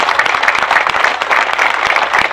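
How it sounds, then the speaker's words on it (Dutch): A small outdoor crowd claps for the workers who finished paving the Marktplein in Hattem at its official opening, a brief, fairly loud burst of steady applause. "Volgens mij moet ik eerst eens een hartelijk applaus geven voor de jongens die het hebben opgeleverd"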